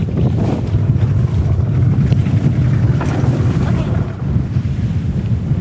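Strong gusting wind buffets the microphone at sea on a stormy, blustery day with big waves, a loud continuous roar with low rumble and surging gusts, no talking.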